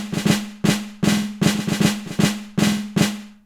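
Snare hits with no kick drum open a rage-style beat, sharp cracking snaps landing in a steady uneven pattern, some doubled into quick flams, each with a short ringing tone underneath, loud and alone.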